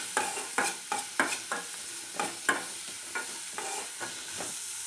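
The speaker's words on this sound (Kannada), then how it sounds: "ಈರುಳ್ಳಿ ಹಾಕ್ತಾಯಿದ್ದೀನಿ ಈರುಳ್ಳಿ ಸ್ವಲ್ಪ ಫ್ರೈ ಮಾಡ್ತೀನಿ" Sliced onions fry in a pan while being stirred, giving a steady sizzle broken by about a dozen sharp, evenly spaced scraping strokes, close and clear, with no voices.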